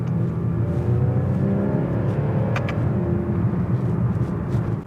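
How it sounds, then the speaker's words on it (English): A Porsche Boxster downshifting to third and then second while driven through a canyon corner, the engine rumbling loudly from inside the cabin with quick rising and falling revs. "So we're at a downshift here, down to third, down to second, very instant."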